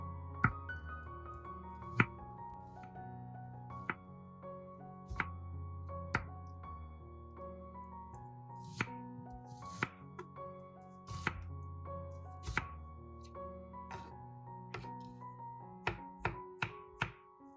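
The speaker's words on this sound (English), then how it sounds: "slice the onion thinly or chop it finely." Half an onion being chopped finely with a knife on a board, a series of crisp, close thunks in an irregular rhythm, with faint ringing tones in the background.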